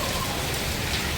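Heavy downpour on an overnight journey, a dense, steady hiss of rain close by that stays even and unbroken throughout, with no voices.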